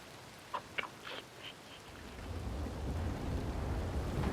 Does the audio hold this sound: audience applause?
no